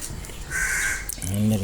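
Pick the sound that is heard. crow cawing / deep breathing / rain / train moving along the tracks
crow cawing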